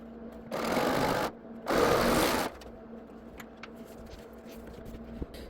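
Two short, loud bursts from a serger sewing a quilt block seam, separated by a brief pause. A quieter background hum and light clicks follow once the stitching stops.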